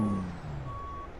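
Steady reversing beeps from a Peterbilt 389 semi truck backing a 53-foot trailer in a driving game, with a low diesel engine rumble and a brief air hiss at the start.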